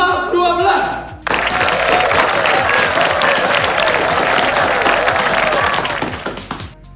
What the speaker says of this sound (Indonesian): Beri tepuk tangan yang meriah untuk penampilan dari peserta kelas 12.